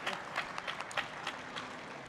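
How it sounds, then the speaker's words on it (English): Scattered clapping from an audience at a startup pitch competition during a crypto conference, fairly faint and thin, a few distinct claps over a short stretch. "big round of applause."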